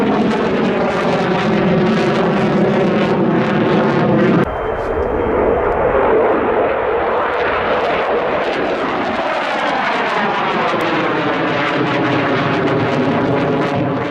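Israeli F-15 fighter jets fly overhead in a loud, continuous roar, with a sharp shift partway through as one passes and a second wave of sweeping engine noise follows.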